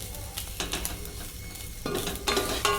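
Chickpea curry (kadalai curry) being stirred in a frying pan, with a spoon scraping in short bursts over a steady sizzle and the clink of utensil on metal.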